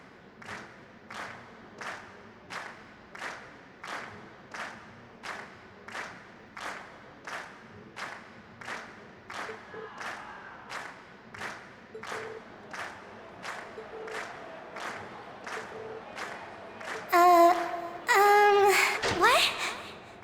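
A concert crowd at a Legend of Heroes Trails of Cold Steel party claps in slow, even unison beats that build, then breaks into a brief loud burst of cheering near the end.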